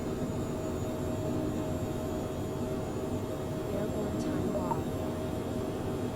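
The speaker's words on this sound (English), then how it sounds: "Smooth takeoff, my friends. Smooth takeoff." A Phenom 100 business jet takes off in Microsoft Flight Simulator 2020 with a steady, even jet engine roar. It carries on without letting up, and a voice may be faintly present underneath.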